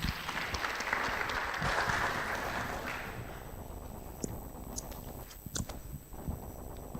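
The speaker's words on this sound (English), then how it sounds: "Please give applause to Mr." Audience applause at an international urban conference fills the room as a speaker is welcomed, dense clapping steady for about three seconds, then thinning to scattered claps that die away.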